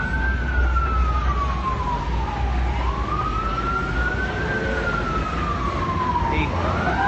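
Wailing fire department sirens rise and fall continuously over steady road noise, fairly loud and somewhat distant, as crews head to a pool deck fire at the Cosmopolitan, Las Vegas.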